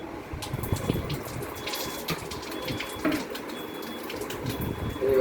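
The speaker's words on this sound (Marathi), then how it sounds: "पाईपमधनं पाणी मशीनमध्ये येईल इकडनं" Steady running water flows from a pipe into a Kangen water filter machine, a continuous wash of flow with a faint mechanical hum and occasional soft clunks, fairly close and moderately loud.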